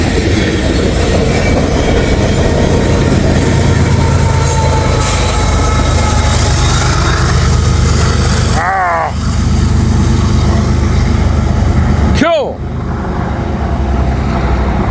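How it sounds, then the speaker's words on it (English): A freight train with a distributed power locomotive rolls past close by, a loud sustained roar of wheels and cars with two sharp whistle-like squeals cutting through near the end. "DPU coming through"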